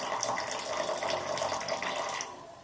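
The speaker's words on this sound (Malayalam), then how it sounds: "അടപ്പ് തുറന്ന ശേഷം സാവധാനം കുറേശ്ശെ വെള്ളം, കഞ്ഞിവെള്ളം ഈ ചരുവത്തിലേക്ക് പകരുക" Rice water (kanji) poured slowly from a cooking pot into a vessel in a village kitchen, a steady close trickling stream that thins and fades near the end, with no talking.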